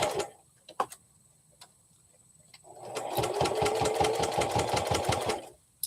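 A sewing machine stitches fabric for a Chameleon sewing project: a few isolated clicks and taps at first, then a steady fast run of rhythmic needle strokes for about three seconds before stopping.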